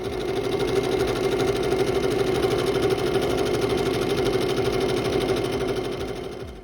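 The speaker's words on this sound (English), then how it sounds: "We're going to sew right here along this, and I'll take away our raw edge." A sewing machine runs steadily while stitching along the raw edge of a pillowcase, giving a continuous close mechanical whir with a fine rapid pulse and no speech.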